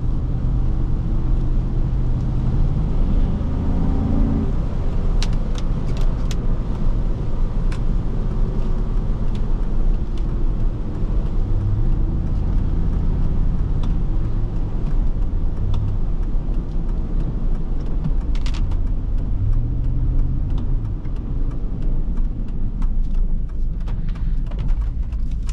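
A 2005 Chevrolet Suburban 1500 engine pulling uphill at about 2,500 RPM under light throttle, a low steady drone heard from inside the cabin, continuous and fairly loud with occasional gear changes.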